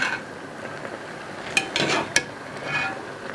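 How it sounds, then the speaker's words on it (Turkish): Beef kavurma simmering in its own juices in a pot, stirred once around, with a few scraping strokes and soft sizzling heard up close. "Şöyle bir tur karıştıralım."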